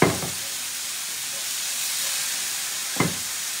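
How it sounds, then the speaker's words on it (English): Fresh bamboo shoots sizzle in a frying pan with a steady hiss throughout, and two brief clatters mark the start and near the end. "I'm going to let that sizzle away"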